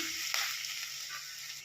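Chicken pieces frying with onions in a pan for chicken thokku give a steady, close, hissing sizzle that runs unbroken through the whole short stretch.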